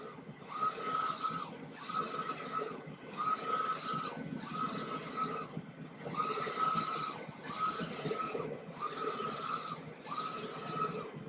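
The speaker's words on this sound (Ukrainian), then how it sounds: "це передостання версія принтера Мімакі" A Mimaki textile printer printing T-shirts runs in a steady mechanical cycle, its print head sweeping back and forth with regular whirring passes broken by brief pauses, heard up close without any talk.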